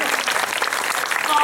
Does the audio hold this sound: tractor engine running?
no